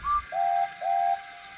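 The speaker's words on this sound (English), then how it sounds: "the twins backed into the shed and gave cheerful, deep-toned whistles to the others." Two cheerful, deep-toned whistles from twin engines backing into a shed, each a steady sustained tone after a brief higher opening note, loud and close with no talk.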